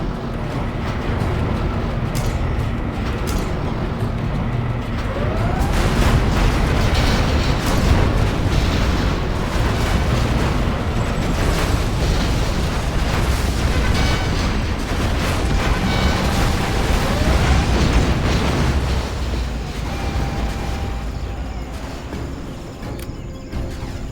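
Scud Storm missile strikes in the real-time strategy game Command & Conquer Generals Zero Hour, a dense, sustained roar of explosions and rumbling battle noise, loud and continuous throughout.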